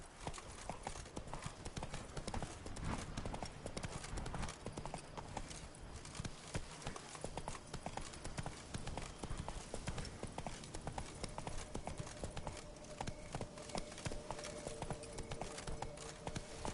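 Horse hooves galloping in The Witcher 3, a rapid continuous clip-clop rhythm on the ground, steady and fairly quiet throughout.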